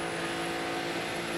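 A drag race car doing a burnout at an NMRA Bradenton Spring Break Shootout event, its engine a loud, steady, sustained roar with constant tone that fills the whole stretch without pause.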